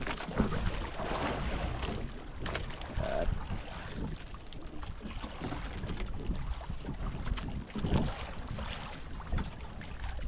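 Steady wind roars over open water at sea after a typhoon, buffeting the microphone, with waves and a boat's motion churning underneath throughout.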